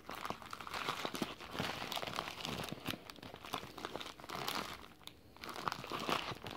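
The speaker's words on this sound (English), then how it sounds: "this is just going to be a quick video of an unwrapping" Plastic packaging around an Ocarina of Time game is crinkled and torn open, a steady close, quiet run of crackling and rustling with no talk.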